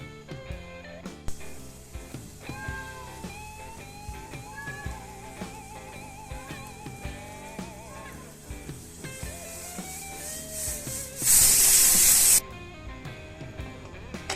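A pressure cooker of dal khichdi on a medium gas flame gives a loud, sharp burst of hissing steam release lasting about a second, after a stretch of quieter kitchen sounds and clatter.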